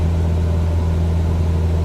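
Simulated aircraft engine in Microsoft Flight Simulator, settled at about 2,400 rpm, gives a steady, loud, even drone with no change in pitch throughout and no talking.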